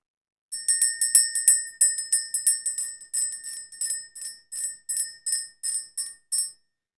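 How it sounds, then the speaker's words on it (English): A small hand bell rung repeatedly in quick bursts, bright metallic dings in steady rhythm for several seconds, clear and close with no talking. "Let's go ahead and ring the bell."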